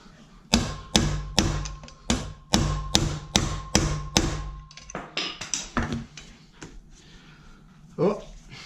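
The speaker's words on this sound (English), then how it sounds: "get my screwdriver on this edge and hit this bearing out" A screwdriver is hammered against a front motorcycle wheel bearing on a Yamaha Vmax to drive it out: about eight sharp, evenly spaced metallic blows, close and loud, then a looser cluster of lighter taps.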